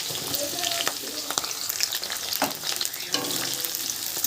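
Cauliflower, beans and mixed vegetables sizzle in hot oil in a pan, a loud continuous crackle broken by repeated stirring scrapes, with no talking.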